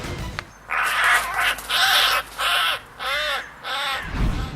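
A crow caws loudly and close by, giving about five harsh, drawn-out calls in an uneven rhythm with short gaps between them, no talk.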